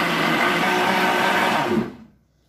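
A blender whirs loudly and steadily as it mixes coconut dessert ingredients, then winds down and stops near the end.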